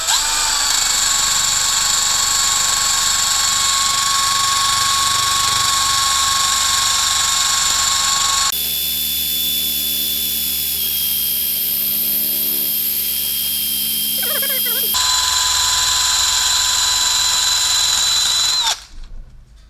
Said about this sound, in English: And we'll go back to buffing it.